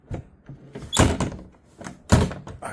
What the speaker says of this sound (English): I checked the lift gate, make sure it doesn't hit when it closes and opens